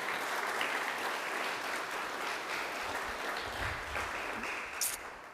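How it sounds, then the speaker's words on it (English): Sustained audience applause following a town band's performance at an Australia Day civic ceremony in Singleton, a dense steady wash of clapping from a sizeable crowd, fairly distant and even throughout, with no speech over it. "Please join me again in a round of applause."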